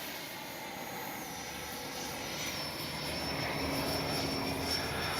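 Freewing Yak 130 RC model jet with a 70mm ducted fan, slowing on landing approach: a steady, fairly distant whine and rush of air that holds even throughout, with no voices.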